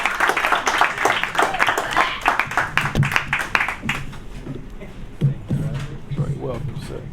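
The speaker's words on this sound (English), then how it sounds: "Clap it up, clap it up, clap it up." Audience at a poetry event at Kula Cafe clapping to welcome a poet, bursts of hand claps mixed with speech and cheering, fading into a quieter room with voices.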